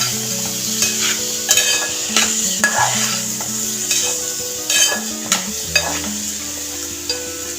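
Jackfruit curry, Godavari-style panasa pottu, fries in a pan while being stirred, with a continuous close sizzle broken by repeated spoon scrapes and knocks against the metal.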